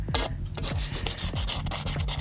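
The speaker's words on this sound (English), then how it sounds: "I'm gonna go ahead and just very lightly sand up this" Close, steady rasping strokes of sandpaper lightly scuffing the edge of an old irrigation pipe that spent twenty years underground, rapid back-and-forth rubbing with no talk.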